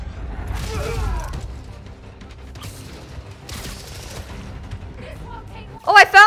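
Enemy gunfire in Marvel's Spider-Man: Miles Morales, a few sharp bursts of shots with mechanical clatter amid game combat sounds, while a voice talks over parts of it.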